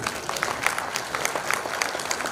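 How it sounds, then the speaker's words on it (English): Audience clapping at the inaugural session of a conference, a steady dense patter of many hands sustained throughout at moderate level. "You should clap yourself because you managed it."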